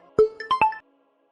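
A short phone ringtone plays: a quick run of four or five bright electronic tones within under a second, clean and close, followed by silence.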